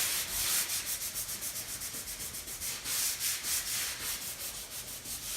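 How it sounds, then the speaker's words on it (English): A sanding sponge rubs by hand over painted trim in steady back-and-forth strokes, a soft, rhythmic, close scratching hiss that continues without pause. "once you've ran a sanding sponge across the surface"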